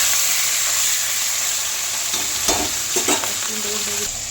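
Fish fries in oil with a constant close sizzle. A few scrapes and clatters from stirring cut through near the end, and a low hum sits underneath.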